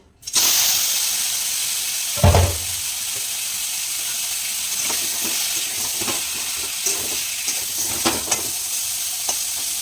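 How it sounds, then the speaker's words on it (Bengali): Prawns fry in a wok with a continuous close sizzle and hiss, a brief loud clatter near the start and a few small pops later, with no talking. "চিংড়ি মাছগুলো আগে ভেজে নিই"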